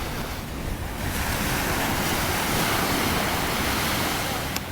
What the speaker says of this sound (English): I am right now sitting down on the sand, listening to the sweet, sweet, sweet water